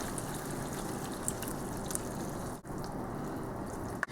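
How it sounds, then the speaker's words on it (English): Tomato sauce pours over meatballs cooking in a pan, a soft continuous wet hiss and trickle, quiet and close, with no voices. "our meatballs have been cooking, and I'm going to add the tomato sauce"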